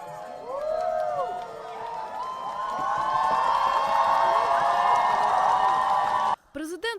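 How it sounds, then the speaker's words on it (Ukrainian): A street crowd cheers, whistles and applauds in response to a parliamentary vote passing a law, a loud sustained roar of many voices that swells for about six seconds and then cuts off abruptly. "На вулиці на результат реагують оваціями"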